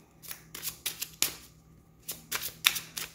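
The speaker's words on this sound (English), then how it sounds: "let me get one more shuffle and I'll get your advice" Tarot cards are shuffled by hand in quick riffling bursts, repeated several times in a steady rhythm and heard close up in a quiet room.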